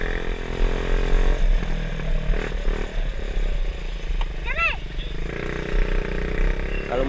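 Small RXF 50cc mini trail motorcycle engine droning steadily while riding a trail through scenic countryside, with a voice talking over the engine noise throughout.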